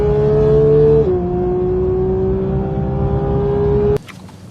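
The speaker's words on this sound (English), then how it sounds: "Turn up the volume to listen to the sound of Porsche 992 GT3." Porsche 992 GT3 engine holding a high steady rev with a strong tonal howl, dipping slightly after a second, then cutting off abruptly near the end, loud and close.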